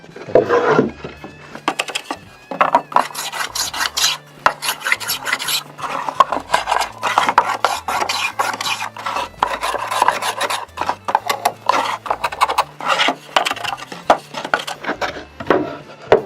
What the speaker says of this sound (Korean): 이렇게 대패를 하면 이런 면이 어, 매끈하게 됩니다